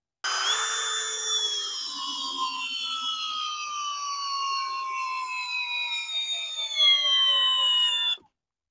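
A Hercules cordless drill with a fully charged 4 amp hour battery spins in speed 1, drill mode, giving a close, sustained high motor whine that sags slightly in pitch under load, then cuts off sharply.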